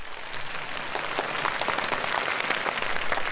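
An audience at a televised Spring Festival Gala comedy performance applauds in a dense, steady burst of clapping that holds throughout, with no voices over it.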